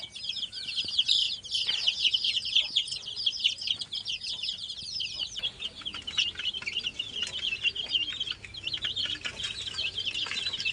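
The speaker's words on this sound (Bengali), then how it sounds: "21 পিস ব্রয়লার মুরগির বাচ্চা" Twenty-one broiler chicks kept in a rabbit house chirp constantly in a busy, high-pitched peeping chorus, close by and steady throughout.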